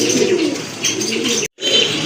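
A large male pigeon coos in a low, throaty, continuous way that rises and falls close by, broken by a short gap of silence before the cooing resumes.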